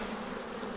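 Honey bees hum steadily around an open hive while a beekeeper handles the boxes and queens, a close, continuous buzzing drone at moderate level with no talk.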